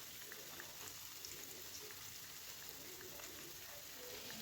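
Cauliflower pieces fry in hot oil, giving a constant soft sizzle with small crackling pops, steady and fairly quiet.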